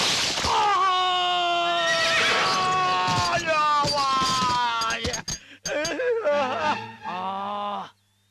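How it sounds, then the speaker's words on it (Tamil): A horse whinnies loudly and at length in a film scene, long wavering neighs filling most of the stretch before trailing into a few shorter, broken calls. "நான் கத்தலப்பா, உன் குதிரை தான் கத்துச்சு."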